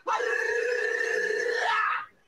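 A person imitates an animal howl with one sustained, wavering, dog-like cry lasting about two seconds, close and clear, then cuts off abruptly.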